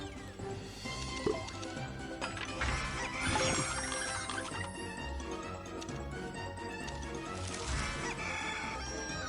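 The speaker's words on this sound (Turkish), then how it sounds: "tavuklar bu horozlar bunlar." Roosters crow and cluck amid a dense wash of bright electronic jingles and effects in the slot game Bigger Barn Bonanza, with no voices.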